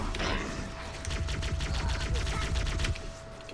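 An assault rifle fires a rapid, sustained burst in the Halo CE video game, loud and close, with clattering mechanical rattle over a low rumble.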